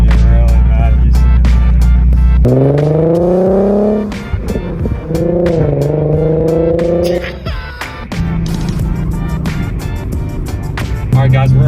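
A 2018 Nissan 370Z engine is heard from inside the car while driving. The loud, close engine note climbs in pitch through the gears and drops sharply at two upshifts, with road noise underneath.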